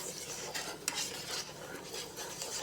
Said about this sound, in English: Stir it up like that.